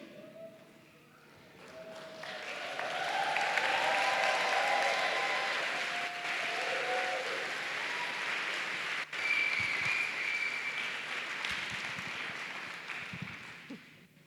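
A conference audience at a sign language interpreters' keynote event gives sustained applause, building after a quiet start into a broad, even wash of clapping that holds steady before easing slightly near the end.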